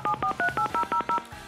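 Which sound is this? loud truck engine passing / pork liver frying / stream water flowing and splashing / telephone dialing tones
telephone dialing tones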